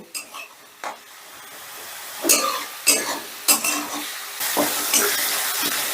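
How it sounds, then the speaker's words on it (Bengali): Onion frying in a pan on a gas flame at medium heat, stirred with a spatula: loud scraping strokes come in bursts over a rising, steady sizzle, close up with no talking. "এবারে গ্যাসের আঁচটা মিডিয়ামে রেখে আমি পেঁয়াজটাকে হালকা করে ভেজে নেব"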